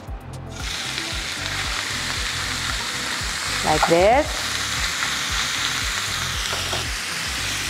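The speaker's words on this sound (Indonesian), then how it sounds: "Terus daging cincangnya langsung aja kita masukin ya," Minced meat hits hot olive oil in a pan and fries with a loud, steady sizzle that continues throughout, with a brief stirring bump and a short spoken phrase over it midway.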